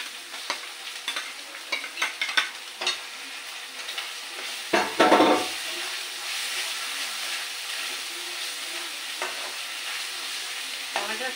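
Tomatoes sauté with fried onions in a pan, a steady close sizzle under a run of quick spoon taps and scrapes, then one loud burst of hissing as they are stirred, with no talk.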